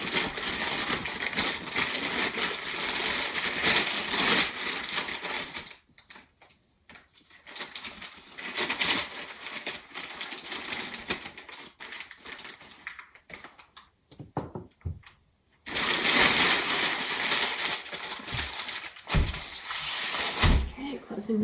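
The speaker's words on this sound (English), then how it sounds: "Closing the bag up so we don't get much air in it" A plastic bag of modelling clay is opened and closed, giving bursts of loud crinkling and rustling that stop for a quiet stretch in the middle and then resume with a few sharper handling knocks.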